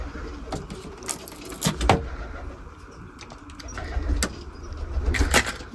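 A caged pigeon coos softly among sharp clicks and rattles, with traffic-like background hum and faint voices nearby.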